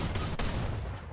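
AK rifle fire in a shooter video game, a short rapid burst of shots with one sharp crack standing out, close and loud over a steady background rush.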